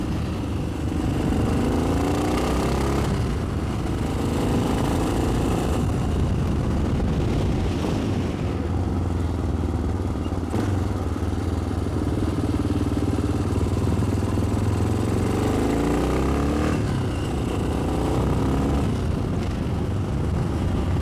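A vintage Yamaha XT 600 enduro motorcycle engine drones steadily and close, rising and falling as it accelerates out of curves, with constant wind rush over the ride.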